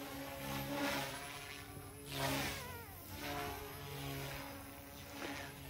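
Goosky S2 RC helicopter in flight on a Rotorflight governor, its rotor whine and buzzing hum swelling and fading as it passes at moderate distance, with no one talking.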